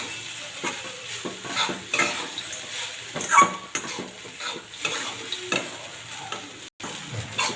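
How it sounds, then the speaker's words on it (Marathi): Poha with potato and onion is stir-fried in a pan, a spatula scraping and tossing it in irregular strokes over a soft, steady sizzle, with occasional clinks of metal on the pan and no talking. "पुन्हा एकदा ते पोहे पुन्हा परतून घेऊया"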